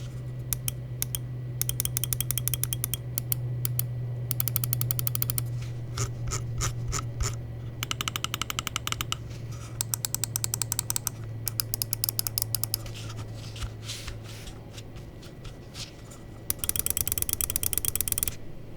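Crisp rapid clicks and light rattling handling of a WLMouse Beast X, a 39 g lightweight gaming mouse, come in repeated bursts with short pauses, close and dry, over a steady low hum, with no talking.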